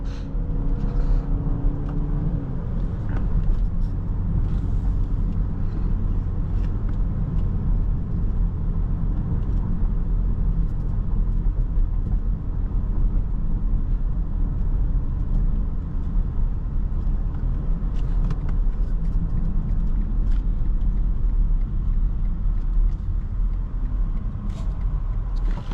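2024 BMW X1 xDrive28i M Sport accelerating, heard from inside as a steady low engine and road rumble that holds loud throughout the drive.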